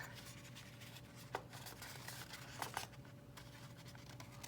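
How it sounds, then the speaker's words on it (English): Paper sides of a handmade explosion card are folded up, giving faint, soft scratches and brief crisp creasing ticks against a quiet steady background hum. "You want to fold them up"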